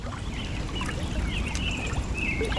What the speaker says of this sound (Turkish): Kenarında bu şekilde dere var. Akıyor.